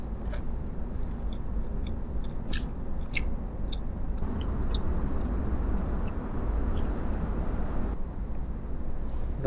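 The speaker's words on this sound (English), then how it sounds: "Don't tell me you want to go your whole life without chewing out loud." Loud, close chewing of food with wet squishing and crunching bites, continuing steadily with occasional sharper clicks.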